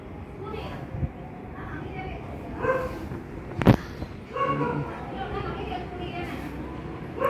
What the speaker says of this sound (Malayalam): എവിടെയോ ഒരു പട്ടിക്കുഞ്ഞിൻ്റെ കരച്ച് കരച്ചിൽ കേൾക്കുന്നുണ്ട്